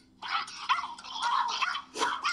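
A dog barks and yips repeatedly in quick, agitated bursts, fairly close and loud, with a final sharp bark after a brief pause.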